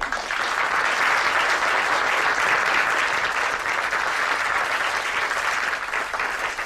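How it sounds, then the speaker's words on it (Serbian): A room full of company workers applauds long-serving veterans at a workplace gathering, sustained dense clapping that stays even and loud throughout with no break. "Jedan spontan aplauz za naši veterani."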